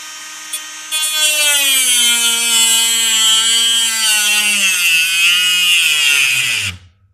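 A Parkside 12V cordless angle grinder with a metal-cutting disc whines at high speed, its pitch sagging as it bites into plastic, then abruptly spins down and stops.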